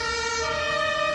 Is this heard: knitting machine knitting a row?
no